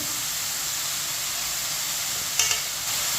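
Chicken pieces tossed with a spoonful of salt in a hot pan, a steady close sizzle and hiss with a brief scrape of stirring near the end, no voices.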